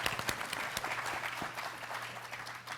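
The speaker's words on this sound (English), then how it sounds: "A little applause for Sherilyn from Texas Women's University" Applause from an audience at a leadership prize ceremony honouring women air service pilots, a sustained, dense patter of many hands heard at moderate distance with a low steady hum underneath.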